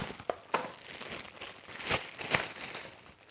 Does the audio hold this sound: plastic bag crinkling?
yes